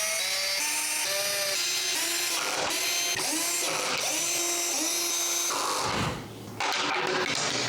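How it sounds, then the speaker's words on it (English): A power drill whirs in repeated rising bursts, driving screws for a ceiling fan mount overhead, its motor pitch climbing and dropping with each short run, loud and close. "I like to pre-start all the screws before just drilling it so I don't strip it"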